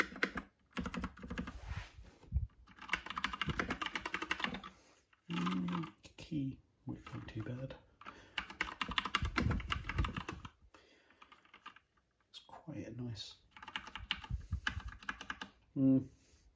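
Epomaker mechanical keyboard with brown switches being typed on up close, bursts of rapid clacky keystrokes separated by short pauses, with a voice talking at times.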